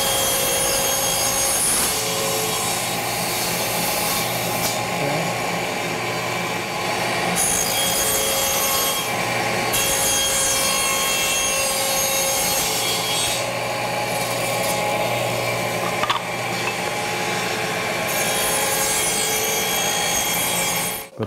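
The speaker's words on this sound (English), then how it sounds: "I'm going to cut the end grain first." A saw runs steadily through the end grain of wooden box stock guided by a fence, a continuous loud rasping whir lasting about twenty seconds with no talk.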